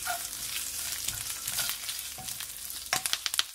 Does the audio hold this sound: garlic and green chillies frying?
yes